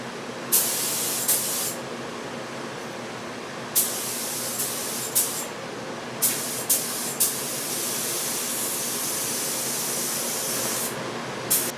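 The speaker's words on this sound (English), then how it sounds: "squirt the primer on there." Continuous loud hiss of a spray gun applying primer to Piper Super Cub wing parts, close and steady for the whole stretch, with brief sharper bursts where the trigger pulses, no talking.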